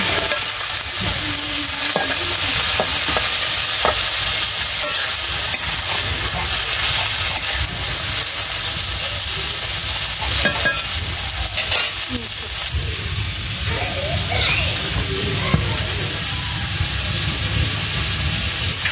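Vegetables for a shukto-style dish frying in a pan while being stirred, a constant loud sizzle and hiss with scraping stir strokes close up, no talking.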